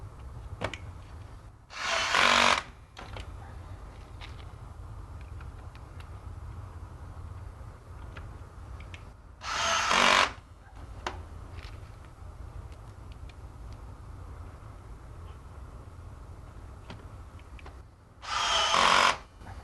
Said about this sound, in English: make sure that you are giving good pressure in the direction of the screwing